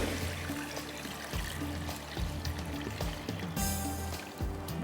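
Water poured into a cooking pot while preparing street-style yakhni broth, a steady trickling, filling flow with low bubbling texture, close and fairly quiet, with no talk over it.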